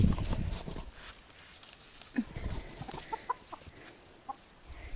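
Chickens cluck softly at an off-grid mountain homestead in Portugal, with scattered short calls over a steady chirring of crickets and outdoor rustle.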